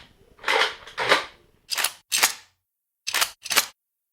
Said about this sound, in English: Then, recording several metallic objects and a toy gun, I created the cocking sound.